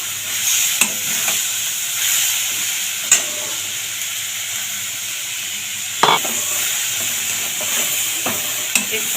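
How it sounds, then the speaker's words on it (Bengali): Boiled chana dal going into a hot pan brings a continuous bright sizzle and hiss of frying, with occasional clacks of a utensil against the pan, loud and close. "এবার আমি এখানে ডালটা ঢেলে দেবো।"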